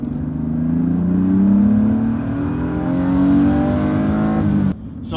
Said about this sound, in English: It just sounds like a big, powerful engine